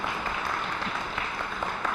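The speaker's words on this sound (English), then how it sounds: "Please, one more time, please give a warm round of applause." Audience applause after a museum talk, a dense, even patter of many hands clapping at moderate level for about two seconds, with faint voices mixed in.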